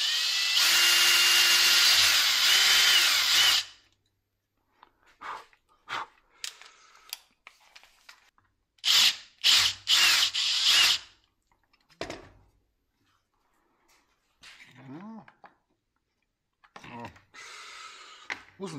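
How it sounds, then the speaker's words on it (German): An electric drill bores a large hole for a cable plug, whining loudly for a few seconds, then cutting in short bursts between pauses, close up. A person speaks between the drilling. "bohre ich jetzt nochmal ein großes Loch"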